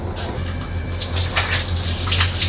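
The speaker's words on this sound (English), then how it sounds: "I'm gonna have a shower on a train" A shower runs aboard an overnight train from Innsbruck to Prague, a steady low-pressure spray hissing continuously over a constant low rumble from the moving carriage, fairly close and without talk.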